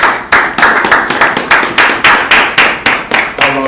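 Rhythmic group clapping at a diploma graduation ceremony, loud and close, with roughly a dozen strong, evenly spaced unison claps and no talk over them.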